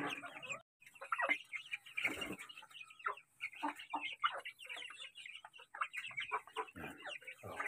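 Rhode Island Red and native chickens clucking and murmuring nearby in a steady chatter of short overlapping calls, with occasional louder squawks and no clear talking.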